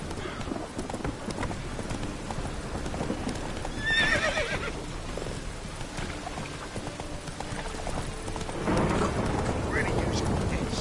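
A horse gallops with steady clip-clop hoofbeats under a loud, continuous rushing background, with a clear neigh about a third of the way in and another whinny near the end.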